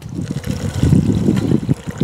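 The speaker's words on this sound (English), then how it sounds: "A little bit of water" Water trickles and splashes briefly into a container of orange pigment for slaking, close and moderately loud, with a low bubbling texture.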